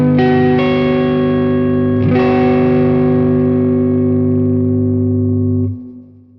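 Microtonal chord in 22 EDO that includes the 15th harmonic, played on a synth with chorus and reverb, a few notes entering in quick succession and then held as one sustained chord before fading.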